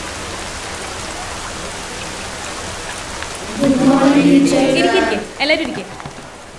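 Steady rain falls with an even hiss throughout, and a voice speaks briefly over it partway through.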